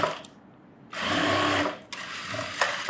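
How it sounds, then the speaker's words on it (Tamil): A sewing machine runs a straight stitch through net cloth for a fancy blouse, with short loud bursts of steady motor whirring separated by brief pauses. "இது நம்ம ஸ்ட்ரெயிட் தையலே போட்டுக்கலாம்"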